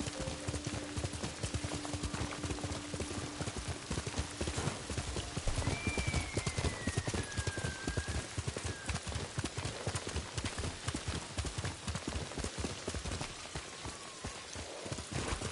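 Horse hooves clop rapidly and steadily through the whole stretch in the video game Ghost of Tsushima, with a faint whinny and soft rain in the background and no voices.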